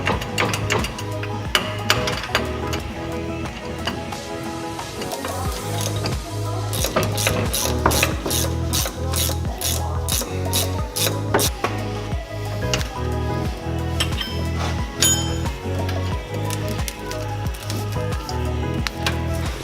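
A hand ratchet loosens drive shaft bolts under a Cummins truck, at the shaft running to an NP273D transfer case. It gives loud, steady runs of rapid clicking with short pauses between strokes, and no one speaks.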